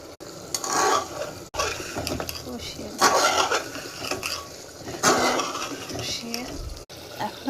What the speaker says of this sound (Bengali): এখন আমরা বেরেস্তার সাথে গোশতটা একটু ভেজে নিচ্ছি।